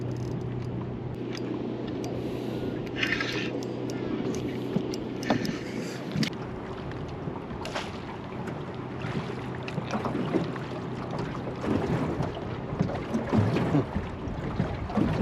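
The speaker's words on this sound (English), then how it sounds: "A decent sized boat coming up the river." A motorboat drones along the river at a distance, its low engine hum steady beneath gusts of wind and water sounds.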